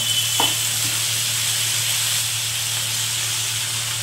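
Water poured into a pan of salted tomatoes frying in oil brings a brief sharp burst at first, then a steady sizzling hiss that continues close up with no talking.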